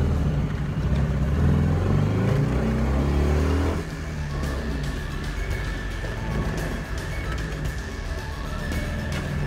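A vintage Toyota Sports 800 runs through a slalom, its small engine droning loud and close with a steady rumble that drops in pitch partway through, then carries on at a lower, even hum.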